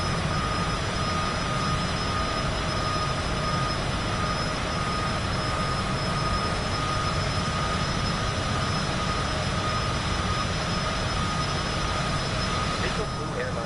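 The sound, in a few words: aircraft jet engine in Microsoft Flight Simulator 2024 video game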